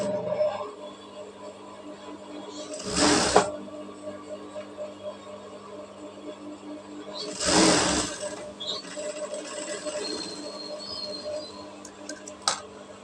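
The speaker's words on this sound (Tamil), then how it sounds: "கரெக்டாக இந்த எட்ஜில் வச்சுட்டு இப்போ ஒரு தையல் போட்டுக்கிறோம்" A sewing machine runs a line of stitching along a fabric edge as two short loud whirring bursts separated by quiet gaps, with a faint mechanical background in between.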